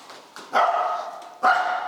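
A small dog barks twice, close and sharp, with short yappy calls and a brief pause between them.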